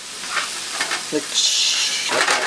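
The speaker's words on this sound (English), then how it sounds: "fry it up. You can hear the sizzling" Scrambled egg with mushroom and cheese sizzles and hisses in a pan, with a burst of louder crackling midway and light stirring scrapes, close up.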